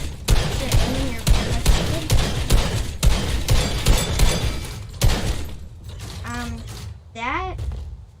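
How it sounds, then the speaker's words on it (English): Arrows strike targets in quick succession in the Fortnite Arrow Frenzy game mode, a steady run of sharp impact cracks and shatters that later gives way to a couple of chirping tones, loud and close. "basically what you do is you just shoot all these targets"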